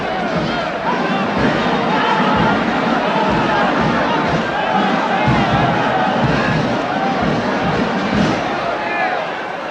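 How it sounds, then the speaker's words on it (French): A large crowd floods the arena at the close of the Lumeçon combat, a continuous dense roar of voices, shouting and movement, loud and unbroken throughout. "la foule envahit l'arène"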